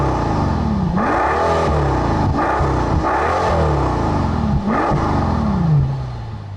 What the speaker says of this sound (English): that exhaust is a little bit subdued compared to other high-performance cars with big V12s